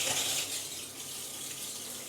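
Water running steadily from a large hotel-room shower with a rainfall head and handheld sprayer, a continuous bright hiss of spray, close and even throughout.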